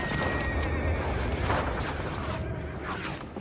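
A horse neighs in a Battlefield-style video game set in the Sinai desert, a whinny over steady background rumble and faint clip-clop, with distant game effects around it.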